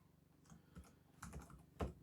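Quiet keystrokes on a computer keyboard as a file name is typed, a few soft clicks in short bursts, close and faint, without speech.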